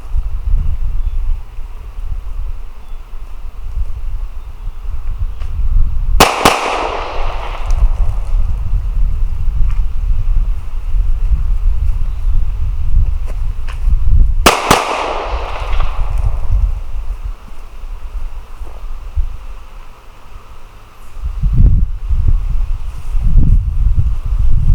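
A Glock 19 pistol fires at an outdoor shooting range: two sharp, loud single shots about eight seconds apart, each with a short echoing tail, over steady wind noise.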